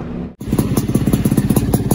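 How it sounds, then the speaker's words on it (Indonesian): After a brief cut, a Yamaha F1ZR two-stroke motorcycle with an R&R racing aftermarket exhaust runs loud and close with a rapid, throbbing exhaust pulse, holding a steady rev. "sekarang kita dengar full soundnya geber-geber pol dari RNR pipe."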